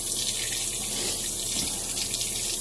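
Steady running tap water pours over a razor being rinsed of hair in a sink, a constant broadband splash with a faint low rumble, no voices.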